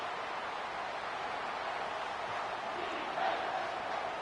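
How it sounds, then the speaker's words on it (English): A packed stadium crowd roars steadily at a Tennessee vs Georgia college football game, a dense, continuous wash of cheering that swells slightly near the end. "this crowd is tearing the lid off this place"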